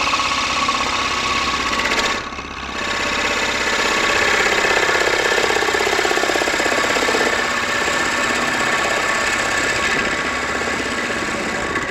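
A lathe turning the interior of a walnut bowl while a gouge cuts with the heel of the bevel, giving a steady, loud, rough droning buzz that dips briefly and then continues unbroken.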